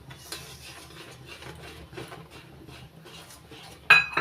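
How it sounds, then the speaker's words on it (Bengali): Rice flour is stirred into ripe mango pulp dough in a pan over a low flame, making soft, rhythmic scraping and shuffling at a quiet, steady level, with a sharper clatter near the end. "নাড়াচাড়া করে মিশিয়ে নেব"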